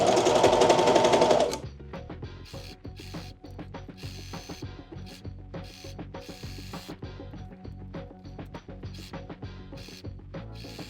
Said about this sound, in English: Here we go, sewing up the side seams